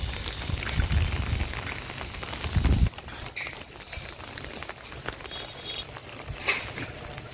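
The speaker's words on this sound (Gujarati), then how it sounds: "છત્રી લઈને ઉપર આવ્યો છું ટેરિસ ઉપર અને વરસાદ આવે છે ફૂલ" Heavy monsoon rain falling on an open terrace, a dense close patter with drops drumming on an umbrella, louder at the start and then a steady hiss with scattered spatters, no talk.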